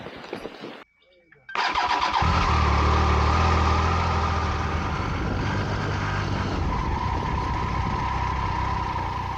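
A motorcycle engine starts on a road trip through Poland after a brief quiet moment, then settles into a loud, steady running rumble close by. Talking is heard earlier in the clip.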